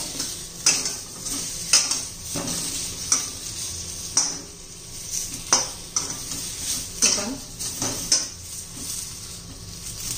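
Spiced corn kernels frying in ghee are stirred in a pan, with a steady sizzle under repeated scraping and clinking strokes of a spoon against the metal, about a dozen irregular stirs close up, with no talk.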